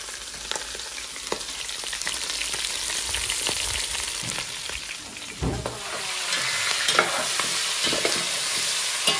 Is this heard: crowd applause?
no